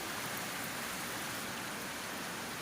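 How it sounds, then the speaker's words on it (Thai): Steady rain falling on a garden, a soft continuous hiss of drops with no other sounds standing out. "ฝนตก"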